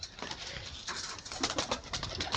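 Competition Madrasi pigeons at a pigeon sale coo steadily in soft, overlapping bursts, with several birds calling close by throughout.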